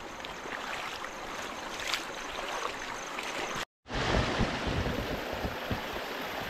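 Fast-flowing stream water rushes steadily over grass near a waterfall, a loud continuous broadband wash with a brief cut in the middle.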